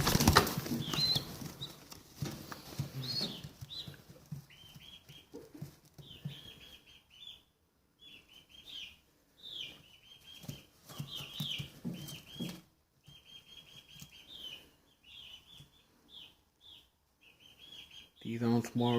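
Early spring chicks, one a lone white survivor of its clutch, give repeated high thin chirps in short bursts at close range, scattered across the stretch with pauses between calls.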